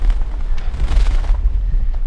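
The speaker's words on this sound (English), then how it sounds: "Turns out it's quite windy up on the top" Strong low rumbling wind buffeting the microphone on a Lake District mountain top, Pinnacle Ridge on St Sunday Crag, steady and loud throughout with gusty bursts.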